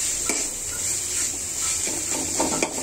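Onion, ginger, garlic and mustard are sautéed in hot oil for a rui fish fry, with close stirring scrapes against the pan over a steady hiss.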